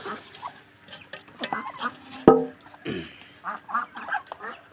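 Domestic ducks kept at home make scattered honking, quacking calls, with one loud sharp call standing out midway amid other nearby fowl sounds.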